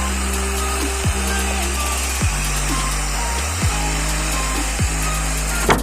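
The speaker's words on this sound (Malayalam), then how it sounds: "നമ്മുടെ സ്പീക്കറിനോടുള്ള ബോക്സ് കട്ട് ചെയ്യുന്ന ഒരു മെഷീനാണ് നിങ്ങളെ കാണിച്ചു തരുന്നത്" A motorised jigsaw cuts wood panels for a loudspeaker box, giving a steady buzzing drone broken by short strokes and shifts in pitch about every second, up close.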